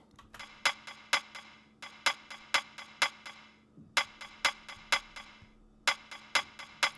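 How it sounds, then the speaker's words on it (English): Crisp, dry clicks tap out a steady, quick rhythm in short bursts, with faint background tones underneath and brief pauses between phrases. "Oh, and I have a clicky percussion ad for the leads."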